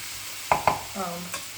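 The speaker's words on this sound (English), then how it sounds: "Okay, like I said, this is just like a stir fry" A spatula stirs onions and bok choy in a hot skillet for a lemon garlic chicken dish, with two quick scraping clicks, a brief soft sizzle and a final tap, close and clear.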